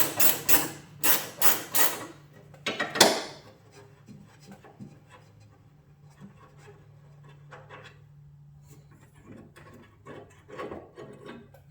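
Metal bolt being worked loose on a truck fender hinge of a Sierra or Silverado, with a burst of loud rasping, ratcheting strokes and a sharp knock early on, then quieter scattered clinks and handling noises.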